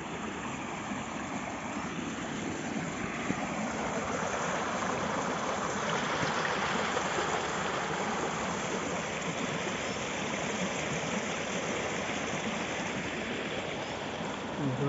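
Water runs steadily into a flooded rice paddy during transplanting, a continuous broadband rush at even loudness throughout, with no voices over it.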